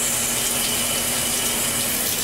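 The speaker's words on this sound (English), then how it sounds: "We're gonna go ahead and let that soak with running water for about 3 minutes" Tap water runs steadily into a bathtub for a film wash, an even, continuous rushing hiss close by, with no voices.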